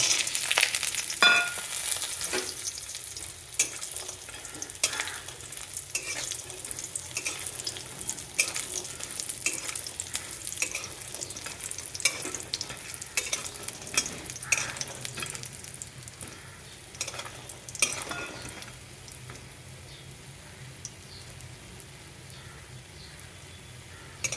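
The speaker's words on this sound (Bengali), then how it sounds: "বড়িগুলো ভেজে নেব।" Sun-dried lentil bori dumplings frying in oil in a wok over lowered heat, giving a steady close sizzle with intermittent crackling pops and stirring scrapes that ease off toward the end.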